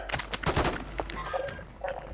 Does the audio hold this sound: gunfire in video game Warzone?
yes